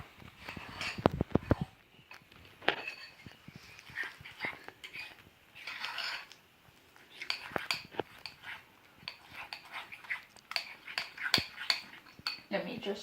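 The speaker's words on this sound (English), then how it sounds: "Now I'm just going to use my fork and mix it up." Crumpet batter of banana being mixed with a fork in a bowl: light, irregular clinks and scrapes of metal on dish, fairly faint and close, with occasional soft dog noises and murmuring in the background.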